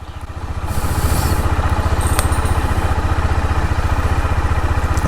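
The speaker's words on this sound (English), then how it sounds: "So I've started the bike." A KTM 390 Adventure motorcycle engine idles close by, a loud, steady rapid single-cylinder thumping that builds in the first second and then holds an even throbbing rhythm, with no talk.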